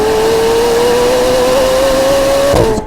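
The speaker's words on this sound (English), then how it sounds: "There's also a new lightweight exhaust, which really amplifies the sound." McLaren 750S V8 engine through a lightweight exhaust, a loud steady high-revving drone climbing slightly in pitch before dropping off at the end, heard close and alone.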